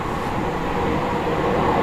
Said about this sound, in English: It was a jet plane, so I think there might be an air show at Biggin Hill.